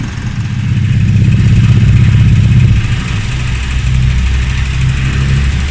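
Car engine idling steadily during a charging system and alternator test, a close, continuous mechanical hum with a brief rise in revs early on, then settling back to a constant idle.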